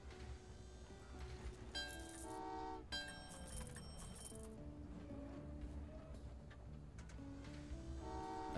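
Trains arriving in the video game Train Valley 2: rumbling rail noise with several short bright horn or chime tones and clattering bursts, fairly quiet overall.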